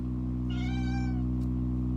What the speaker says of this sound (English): Here's my cat.